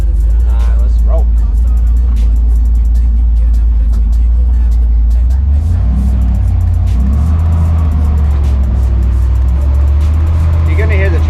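A car with a freshly installed Ford 9 inch rear end rolling around the block, steady low engine and drivetrain rumble rising as it accelerates, recorded close with road noise and faint clicks throughout.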